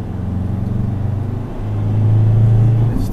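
A 2011 Ford Ranger diesel pulling flat out in third gear near 3,000 RPM, a loud droning engine rumble that rises into a steadier, heavier tone midway through, with no talk over it.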